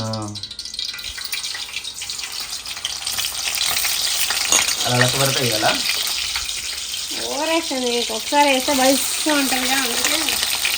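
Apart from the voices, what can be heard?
bitter gourd frying in hot oil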